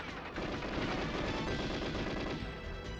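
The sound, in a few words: turret gunfire in GoldenEye 007 video game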